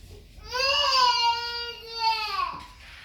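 Small child crying indoors at home, one sustained wailing cry of about two seconds that rises, holds and trails off, fairly close and clear.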